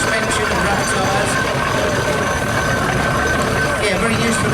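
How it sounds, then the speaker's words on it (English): A 1927 Foden steam wagon on rubber tyres with spring suspension runs at a traction engine fair, giving a steady, loud mechanical rumble and hiss that continues without break, close by. "Another very good steam engine this."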